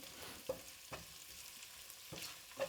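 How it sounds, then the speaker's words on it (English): Chopped garlic and ginger sauté in a pan over a low flame, giving a soft, quiet sizzle broken by a few spatula stirs and taps. "Okay, let's saute this on a low flame."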